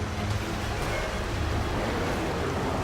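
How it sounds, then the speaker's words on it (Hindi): Huge sea waves, said to rise about forty feet, surge fast toward a temple on the shore at Puri. The surf makes a steady, loud, broadband roar with low rumble, wind-like and unbroken, with no voices. "समुद्री लहरें लगभग 40 फीट ऊंची उठकर बहुत तेज वेग में मंदिर की ओर चल पड़ती हैं"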